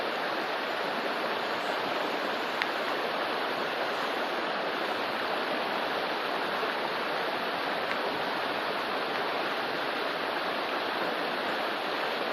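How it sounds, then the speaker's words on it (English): Loud rushing stream water on a steelhead river in Sitka, Alaska, a dense continuous roar that stays steady throughout with no voices on top. "Water's pretty loud here, so you probably can hardly hear me talk"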